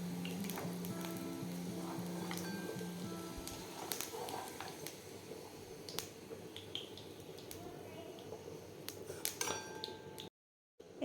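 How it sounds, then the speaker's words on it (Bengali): Cauliflower fries in oil in a pan with a soft, continuous sizzle. Occasional sharp clinks and taps of a utensil against the pan punctuate it, all fairly quiet and close. "দেখুন ফুলকপিটা আমার প্রায় লাল লাল ভাজা হয়ে গেছে"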